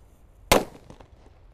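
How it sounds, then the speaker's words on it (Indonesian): A single sharp, loud bang from a large firecracker set off for New Year 2024 in Indonesia, followed by a brief fading rumble and faint crackles. "Ini mercon yang paling banter beledosnya bosku"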